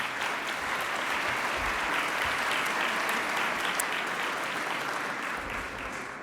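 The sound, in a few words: audience applauding at an entrepreneurship gala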